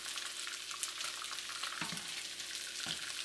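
Pork riblets fry in oil over medium heat in a wok or pan, giving a steady, close, dense sizzle with a couple of soft stirring scrapes and no voices.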